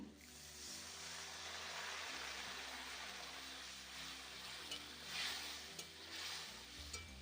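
Onion stalks stir-fried in a pan with dried chili powder, sizzling steadily and close, with the scrape and clatter of a spatula stirring through the pan and no talking.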